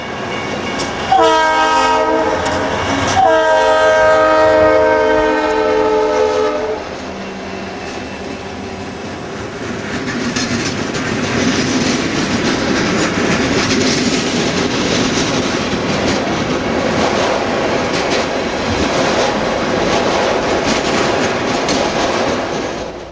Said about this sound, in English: The Conrail train we saw switching at River Rouge a few moments ago comes blasting north